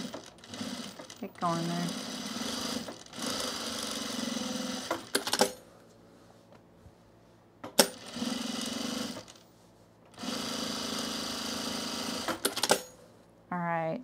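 Sewing machine topstitching cargo pants, running in several steady sustained bursts separated by pauses, fairly close and loud, with a person talking briefly between the runs.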